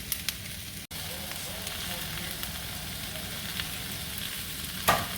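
Zucchini and squash fry in a pan with a steady, soft sizzle and light crackle, a couple of small clicks and a brief clatter near the end, no talk.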